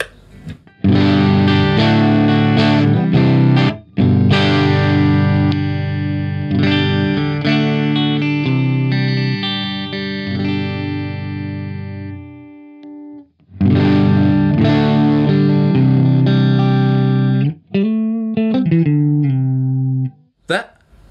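An Ibanez AZ electric guitar with a single-coil pickup plays through heavy distortion, sustained chords and notes ringing loud and close, broken by two brief pauses.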